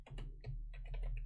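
Keys on a computer keyboard clack in a quick burst of several close, soft taps, recorded nearby over a low hum.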